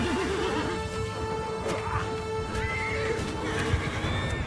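Horses neigh and whinny amid a battle in Mount & Blade II: Bannerlord, with hooves clopping and crashing combat noise all around. Dense and loud throughout, with distant soldiers' voices mixed in.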